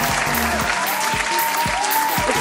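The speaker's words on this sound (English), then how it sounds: "Let's give them a big round of applause" A crowd claps for the winners of a finance and stock market quiz grand finale, steady dense applause filling the hall throughout with a faint tone humming underneath.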